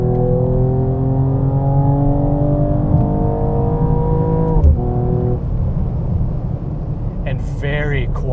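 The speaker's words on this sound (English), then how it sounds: "This thing sounds really good." A 2021 Mercedes CLS 53 AMG pulls hard under acceleration, its engine note climbing steadily in a smooth, sustained drone heard from inside the cabin, with a brief shift break and a voice speaking near the end.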